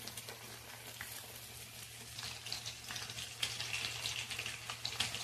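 Chicken pakoras frying in oil in a pan on a gas stove, a soft steady crackle and bubbling with a low burner hum underneath, faint and continuous.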